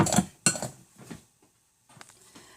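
A spoon clinks and scrapes through apple pie filling in a bowl, a few sharp close knocks followed by softer stirring and a brief pause, with no voices.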